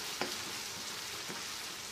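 Garlic, onion and mustard paste fry in a pan for a Bengali-style rohu fish curry. A soft, steady hiss of sizzling runs throughout, with a couple of faint stirring taps and no talking.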